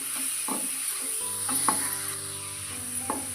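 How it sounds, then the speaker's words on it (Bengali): Four spoons each of jaggery and sugar are mixed in a bowl in a village kitchen, with a few soft scraping strokes spaced about a second apart over a steady background hiss. "এবার আমি মিশিয়ে নেব।"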